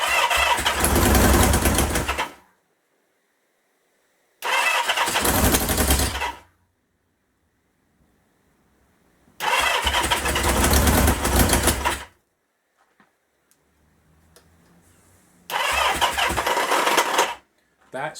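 A 1977 Kawasaki KZ650 B1 motorcycle engine cranks and catches in four loud bursts of about two to three seconds each, stalling every time with silent gaps between attempts.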